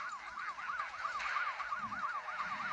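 A police car siren wails in the video game Smashy Road, a rapid, regular rising-and-falling electronic yelp that repeats steadily and clearly over faint background game noise.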